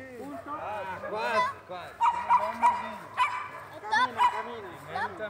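A working protection dog barks in repeated bursts, near and fairly loud, with yips mixed in and a person talking throughout.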